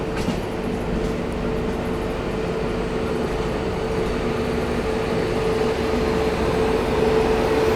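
An approaching Goa Sampark Kranti Express passenger train at an Indian railway station, a steady rumbling roar with a sustained tonal hum that swells slightly toward the end, continuous throughout.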